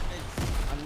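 A grenade goes off in a Fortnite match, one sudden low-heavy blast that rumbles briefly, heard fairly close over continuous game noise.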